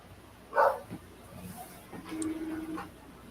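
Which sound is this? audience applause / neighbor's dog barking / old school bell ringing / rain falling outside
neighbor's dog barking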